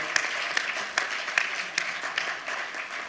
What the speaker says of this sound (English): So please give another round of applause to the Jupago Creca Indigenous Collective from Brazil.